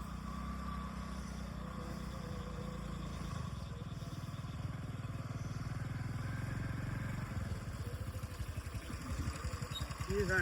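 A motorcycle engine grows steadily louder as it approaches along a road at night, its rough mid-pitched idle-like rumble becoming more pronounced and pulsing toward the end.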